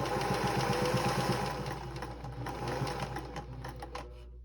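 A sewing machine runs steadily while stitching binding onto a star-patterned quilted table topper, its rapid rhythmic needle clatter and motor hum continuous and close, easing slightly toward the end.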